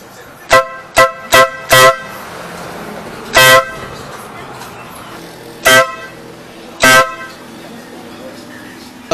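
A newly installed big horn on a car blasts in short bursts: four quick honks in a row, then three longer, spaced blasts, loud and close with little else around.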